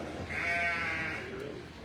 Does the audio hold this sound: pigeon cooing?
no